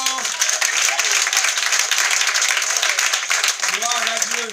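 A church congregation applauds and cheers in praise, a sustained wash of clapping that fills the room while a voice speaks over it.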